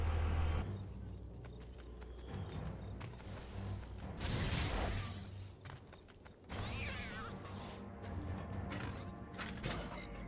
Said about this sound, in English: My neighbor's got an exceptionally loud diesel truck, and he comes and goes a lot.